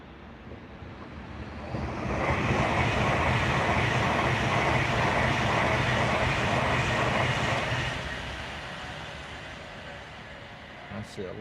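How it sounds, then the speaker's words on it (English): A Pendolino tilting train rushes past, swelling from a distant rumble into a loud, broad roar for several seconds before fading away again. "Here comes the Pendolino."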